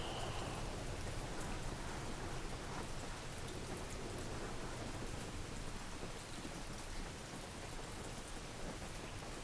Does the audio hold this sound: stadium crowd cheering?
no